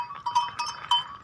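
Goats and sheep on a desi goat farm, with a few short bleats close by over a brief moment and no talking.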